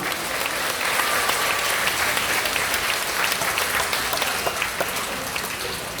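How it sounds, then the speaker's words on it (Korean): A large outdoor crowd at a rally gives a big round of applause, loud, dense clapping that holds steady from start to finish with no speech over it. "여러분 여기를 잘 오시겠다는 결심을 붙이는 큰 박수 한번 해주시기 바랍니다"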